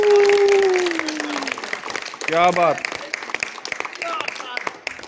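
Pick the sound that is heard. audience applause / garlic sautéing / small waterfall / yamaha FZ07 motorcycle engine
audience applause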